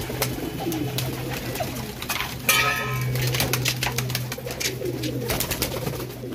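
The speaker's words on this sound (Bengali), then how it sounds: "লালশিরা পায়রা" Lalshira pigeons at a pigeon farm give repeated low cooing calls near the listener, over a constant low hum and a few sharp knocks and rustles.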